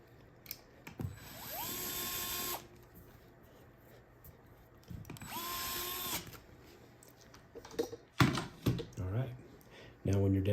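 Small set screws driven with a power screwdriver to fasten the subplate of a Schlage B571 indicator deadbolt, two sustained whirring bursts with rising pitch followed by clicks and handling clatter near the end.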